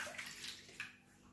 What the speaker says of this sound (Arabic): أول شيء نحط الماء